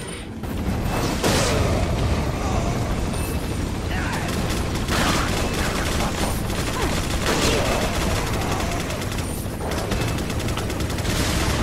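Sustained gunfire in the video game Resident Evil 4, with dense overlapping shots and bursts running loudly throughout a busy combat scene, mixed with mechanical clatter and other game effects.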